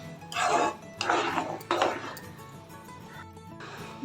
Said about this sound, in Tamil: சுகர் சேர்த்துட்டு நல்லா கலந்து விட்டுக்கணும்.